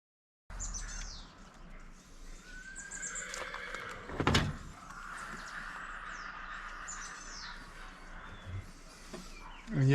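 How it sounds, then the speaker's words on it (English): Belgian draft horses neigh and whinny outdoors at moderate distance, with birds chirping and the faint clip-clop of hooves; one loud whinny stands out midway. "those are real horses you're hearing"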